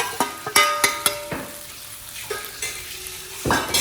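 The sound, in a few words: ground shrimp being stirred into frying mixture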